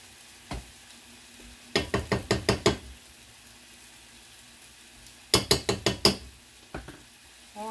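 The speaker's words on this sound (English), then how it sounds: "I will mash a little bit more after all that stuff's in" Potatoes being mashed with butter and milk in a pot for a Bourbon Street chicken and shrimp meal, heard as two bursts of about five quick, close, hollow knocking thumps, with a few single taps between.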